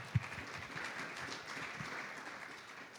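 Audience applause at Denver Startup Week, a continuous wash of clapping from a crowd at moderate distance, one sharp near clap at the start, then steady to the end.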